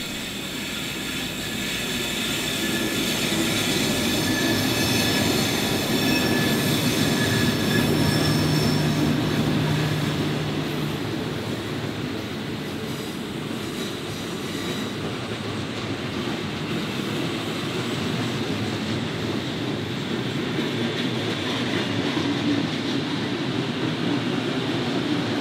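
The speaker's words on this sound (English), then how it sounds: "I started the day by watching the consist transfer over the North Melbourne flyover." A heritage train consist rolls over the North Melbourne flyover, a sustained rumble of wheels on rails with some squealing, heard from a moderate distance for the full length.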